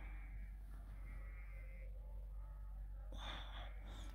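A couple of sheep call out in long, quavering bleats, one louder and harsher near the end, over a constant low outdoor hum.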